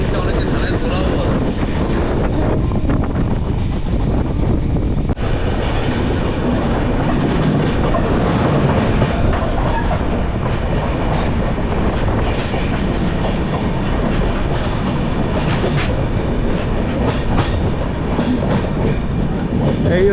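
The Rajdhani Express, a Sealdah to New Delhi train, rushes past just after leaving Bardhaman, heard as a loud, continuous roar of rolling wheels with faint clatter, close by and lasting throughout.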